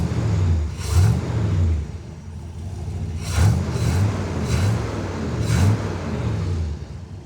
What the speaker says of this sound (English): There is your 427 400 horsepower engine.